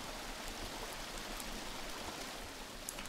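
Rain in the jungle survival video game Green Hell falling steadily as a dense, soft hiss of drops on surfaces, constant and even, moderately quiet and heard on its own.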